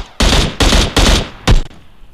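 Four rapid bursts of automatic gunfire in PUBG Mobile, loud and close, each lasting a fraction of a second with short gaps between.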